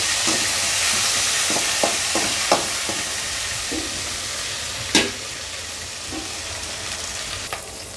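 Green chillies frying with cumin and fenugreek in a pan for a coriander-mint chutney, a loud continuous sizzle with scattered spatula taps and scrapes, one sharper knock midway.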